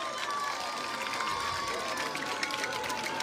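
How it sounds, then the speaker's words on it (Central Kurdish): A group of children at a World Children's Day celebration in Soran claps together, making a sustained patter of applause with a faint crowd murmur behind it. "کەوایە چەپڵەیەک بۆ خۆتان لێ بدەن."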